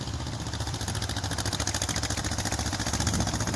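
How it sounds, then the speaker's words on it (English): A 1966 John Deere 420 tractor at an Eastern Shore plow day runs steadily nearby, its engine giving a continuous, evenly pulsing low chug with metallic clatter throughout, loud and unbroken. "John Deere 420"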